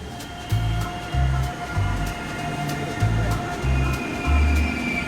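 Rail journey from Amsterdam to Brussels, heard as a steady onboard train rumble with repeated low thumping pulses from the wheels and a faint high whine, with no talking.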